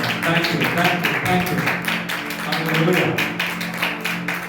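Worshippers at Eternal Life Church in Bathinda, Punjab clap their hands in praise, a thick, continuous crowd patter with sustained music underneath, while someone speaks briefly over it.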